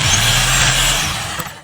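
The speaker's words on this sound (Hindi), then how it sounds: "इसी ड्रिल का इस्तेमाल करते हुए पहले हमने छोटा वर्मा लगा लिया" Electric drill boring a hole for mounting solar panels, a short loud whirring burst that runs steadily for about a second, then tapers off and stops abruptly.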